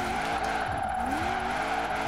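A car drifts through a winter drift zone in the video game Forza Horizon 4, with its engine droning steadily and tires squealing in rising and falling sweeps, loud and continuous.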